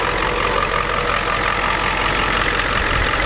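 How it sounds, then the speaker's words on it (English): A Ford F-250 with the 7.3 IDI diesel engine idles steadily nearby, its injection pump recently advanced, giving a continuous loud, even rumble with a faint clattering knock throughout and no voices. "Really no smoke at all now since I advanced the pump."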